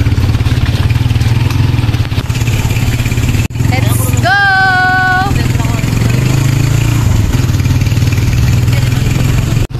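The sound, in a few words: motorcycles passing and idling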